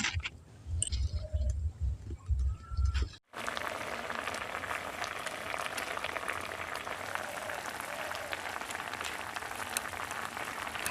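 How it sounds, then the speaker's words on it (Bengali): Langcha simmering in sugar syrup in a covered pot: after a few seconds of scattered clatter, a dense, even bubbling hiss runs steadily at moderate volume, close by, with no voices. "ঢাকা দিয়ে এটাকে দশ মিনিট ফুটিয়ে নিচ্ছি"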